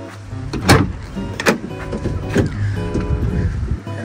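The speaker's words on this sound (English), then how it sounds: "You will first open the back doors." The rear doors of a 2017 Ford Transit van fitted with a BraunAbility wheelchair lift are opened, giving a few sharp latch clicks and metallic clunks about a second apart, close by, against a low background hum.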